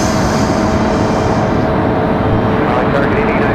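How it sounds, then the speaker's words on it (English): A McDonnell Douglas MD-11 passes at Raleigh Durham International Airport, a loud continuous broadband jet roar that gradually shifts in tone as it moves by, with no other sounds standing out. "Our MD-11 passing through the general aviation side of things."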